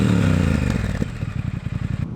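Triumph Speed Twin twin-cylinder motorcycle exhaust, a loud close rumble that drops from a heavy roar into a steady, pulsing idle beat, with no talking.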